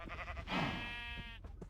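A sheep in the Minecraft video game gives a single drawn-out bleat lasting about a second, clear and close over a quiet background.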